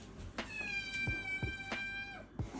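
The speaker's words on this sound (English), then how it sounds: "She is our gorgeous tabby kitten." Freya, a young tabby kitten in a nail salon, gives one long, drawn-out meow close by, clear and fairly soft, with a few small clicks and taps around it.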